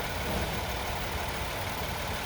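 A 2021 Hyundai Palisade Limited with front-wheel drive idles steadily, a smooth continuous engine hum heard up close with no other sounds.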